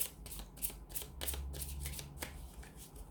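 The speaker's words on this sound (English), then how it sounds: "I'm just going to give these angel answers a shuffle" Oracle cards are shuffled close up in a continuous run of rapid papery slaps and flicks.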